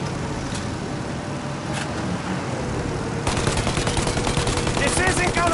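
Rapid gunfire aimed at a taking-off plane's engines in the video game Mafia Definitive Edition: a few scattered shots give way to sustained, loud machine-gun bursts over engine and vehicle noise.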